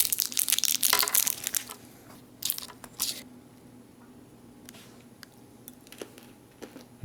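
Someone chewing a 33-year-old stick of gum from a 1985 MRE: crunchy, crackling bites up close at first, then quieter sporadic chewing and small wet clicks.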